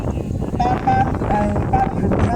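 Strong wind buffets the microphone while fishing outdoors at Kaeng Sanam Nang in Korat, Thailand, a low, rumbling gust noise running throughout under faint voices and thin tonal sounds.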